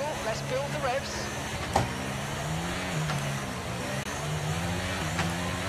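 Race car engines in the F1 23 video game whine and rev at the race start, several overlapping tones rising and shifting continuously, with voices mixed in.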